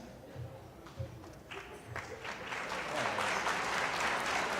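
An audience at an athletic banquet breaks into applause that starts scattered and builds into a full, sustained round by the end, with some talk underneath at first.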